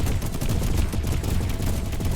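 Cannon fire with built-in area damage in a video game, heard as dense, continuous bursts of booming shots and explosions, loud throughout with no talking.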